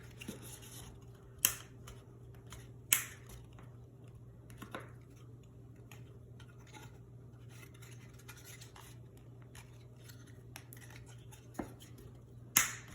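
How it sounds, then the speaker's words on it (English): Several sharp plastic snaps from vehicle storage tray parts being pressed together pop out at irregular intervals over a low, steady hum, each click brief and close by. "If you hear the pop, just make sure it's lined up"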